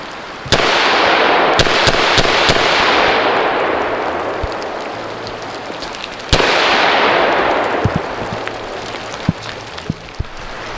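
Rifle shots fired at a target from 25 yards while shooting a group, about a dozen sharp cracks, two especially loud, spaced irregularly over steady outdoor noise, with no talking.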